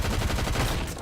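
Rapid hand cannon gunfire from a video game, recorded at a professional Pro-Am tournament match, with a dense, loud volley of overlapping shots rattling continuously for about a second.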